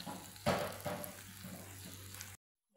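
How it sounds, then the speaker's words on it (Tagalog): Bottle gourd and sardines simmer in a pan with water and coriander, giving a soft, steady bubbling and sizzling hiss with a few louder spatters near the start, quiet and close before cutting off abruptly. "Kumukulo na siya."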